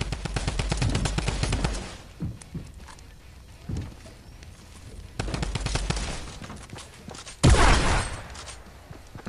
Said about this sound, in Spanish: Me encanta esta escopeta.